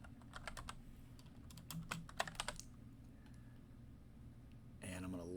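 Fast keystrokes clatter on a computer keyboard as a name is typed, a quick burst of close, crisp clicks that stops, followed by a brief rustle near the end.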